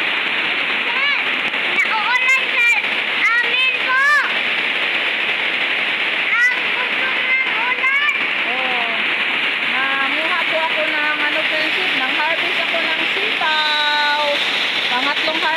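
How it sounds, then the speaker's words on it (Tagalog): Heavy rain pours in a dense, steady roar while a person talks intermittently over it. "Biglang bumuhos yung ulan."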